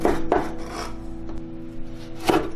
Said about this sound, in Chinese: 接着再来切点姜末